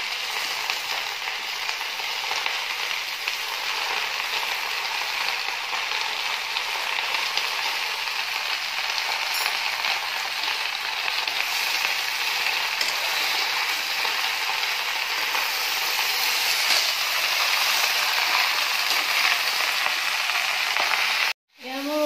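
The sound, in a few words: frying lai saag (mustard greens)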